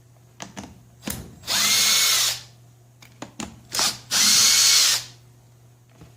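A power driver fitted with a security Torx bit backs out screws on a 1975 Vanguard Citicar electric car, with two long, loud whirring bursts separated by clicks and light handling knocks, no talking.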